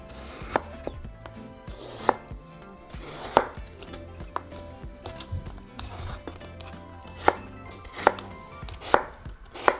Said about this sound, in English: now we're going to cut our potato into small little cubes as well